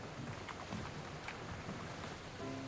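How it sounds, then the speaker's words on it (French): Rain falls in slow motion in a night-time horror video game, a dense, steady hiss of drops with faint low rumble underneath, continuous throughout. "La pluie au ralenti."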